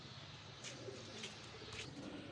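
Soft, low pigeon cooing repeats a few times against a steady background hum, fairly faint and close by.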